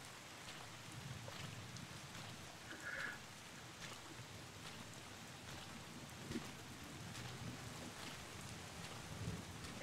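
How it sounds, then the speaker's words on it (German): Steady rain with a low rumble of thunder in the video game Bottle Pilgrim, a continuous soft hiss of falling water under a faint, rolling low roar, with no voices. "Hätte er jetzt mal einen Schirm mitnehmen können bei dem Regen?"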